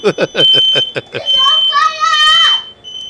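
In Farming Simulator 17, a household smoke alarm triggered by cooking holds a loud, unbroken high-pitched tone while someone speaks over it.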